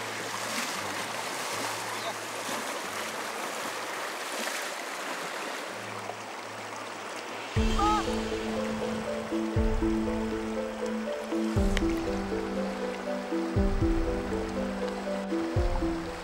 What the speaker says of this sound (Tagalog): Malakas yung agos ng tubig.